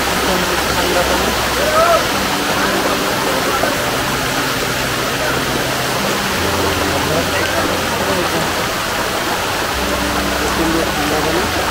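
A waterfall of very cold water rushes in a loud, steady roar close by, with a voice talking over the constant spray.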